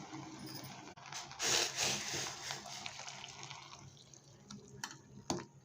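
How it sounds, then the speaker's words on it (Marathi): Hot water pours steadily into a pressure-cooker pot of field-bean rice with coriander, a splashing, trickling rush that rises then tapers, with a few clinks near the end. "आता आपण त्यामध्ये जराशी कोथिंबीर टाकून घेऊया आणि ते गरम पाणी ओतून घेऊया"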